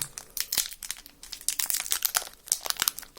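Crinkly plastic snack wrapper of a candy roll being torn open and crumpled, with sharp rustling bursts close by and no talking.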